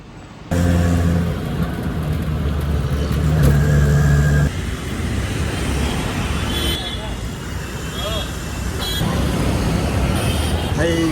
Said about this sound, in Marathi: शपथ काय ट्रॅफिक आहे एकदम इथं.